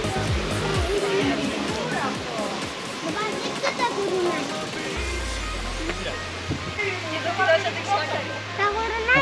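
River water rushes steadily throughout at Pavliani, with children playing and people talking close by over the flowing water.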